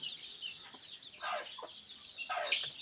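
A village hen with thirteen chicks hatched the day before makes soft clucks amid faint high peeping, with a few louder calls near the middle and end.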